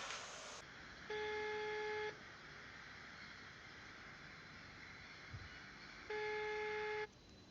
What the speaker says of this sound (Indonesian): Kalau gitu langsung aja kita telepon dia.